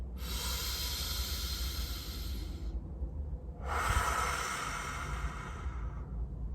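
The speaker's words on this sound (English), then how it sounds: "Meditation is literally just breathing in" Two long, airy breaths with a soft hiss, close to the mic, separated by a short quiet pause.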